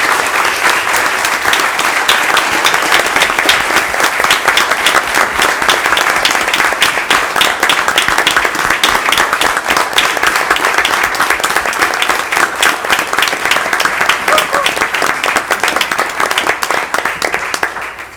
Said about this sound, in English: Could you join me in giving a round of applause for all of our AP students?